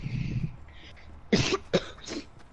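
A gamer gives a few short coughs into a microphone, two sharp close bursts after a stretch of quiet background noise.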